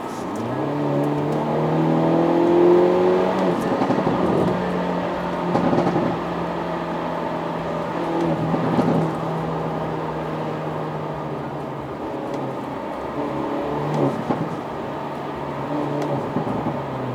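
A Hyundai Avante N (Elantra N) with dual-clutch transmission hums steadily with a deep exhaust note, its pitch rising and easing slightly as it revs gently. No voices are heard.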